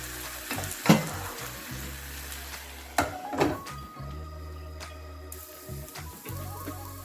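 Lasooni methi sabzi sizzles and fries in a pan, with soft frying noise underneath and a few sharp clatters of a lid or spoon against the pan. No one talks.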